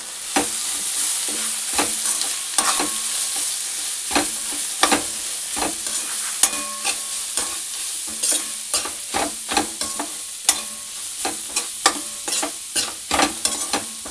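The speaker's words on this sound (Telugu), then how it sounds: "ఇలా ఒక 5 మినిట్స్ ఫ్రై చేసుకుని చూపిస్తానండి" Vegetables for leftover-rice fried rice sizzle steadily in a pan, with frequent sharp scrapes and clacks of a spatula stirring them at an irregular rhythm, close and fairly loud with no talking.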